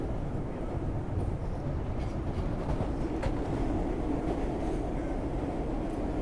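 A city subway train on Boston's T rolls along in a steady, continuous low rumble with faint rail clatter, close and unbroken, with no talk.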